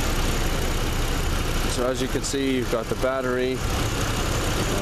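A GMC Canyon's Vortec engine idles under the open hood: a steady, quiet mechanical hum runs throughout while someone talks over it.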